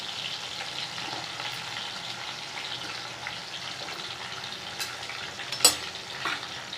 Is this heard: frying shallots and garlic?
yes